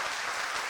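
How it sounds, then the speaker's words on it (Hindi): An audience at a political conclave in Hisar gives a brief burst of applause, a dense, even wash of clapping lasting under a second. "तालियां हो जाएं।"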